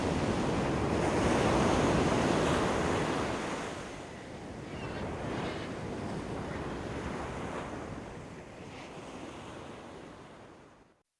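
Ocean surf breaking along a reef at a surf spot, a loud broadband wash of waves that peaks early and then eases into a steady rushing roar with wind noise against the microphone, no voices.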